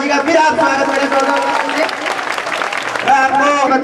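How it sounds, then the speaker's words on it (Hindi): Audience applause at the 2012 annual function of R.S. Memorial Senior Secondary School, loud and sustained for nearly four seconds, mixed with crowd murmur and a tonal, music-like layer throughout, with a brief dip around the three-second mark. "तालियों से एक बार मनोजिया जी का फिर आप स्वागत करें।"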